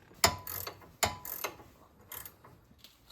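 A hand ratchet clicks while tightening a strut nut on a 2002 Ford Taurus SES, in quick bursts of metallic ratcheting with brief pauses, close and moderately faint over a quiet garage background.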